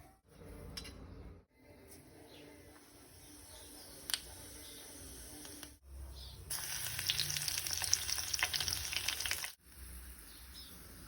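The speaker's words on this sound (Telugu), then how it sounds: "ఈ పాయింట్లో మనం ఇప్పుడు పోపు పెట్టుకోవాలి" Garlic tempering frying in hot oil for a spinach dal, a crackling sizzle that swells loud and bright midway, with short pauses and clicks between bursts, close and without talk.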